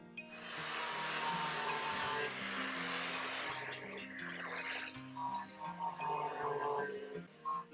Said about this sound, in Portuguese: Agora, para dar o acabamento na peça, utilizamos a esmerilhadeira.